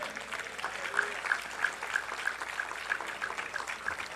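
A church congregation applauds during a sermon, giving a steady wash of clapping from many people with a faint repeating tone in the background.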